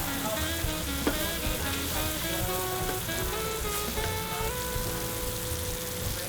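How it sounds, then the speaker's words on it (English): Spicy hot link sausages brown in an oiled pan with a steady, close crackling sizzle that pops and spits throughout, with no talking. "And then let's put these yummy, spicy hot links in. And I'm gonna brown those really quickly."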